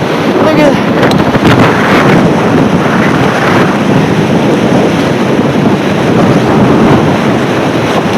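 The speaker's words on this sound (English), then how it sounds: "The wind is pushing me." Strong wind in a blizzard with freezing rain and iced pavement roars steadily and loudly against the microphone throughout, a dense, unbroken buffeting rush with no pauses.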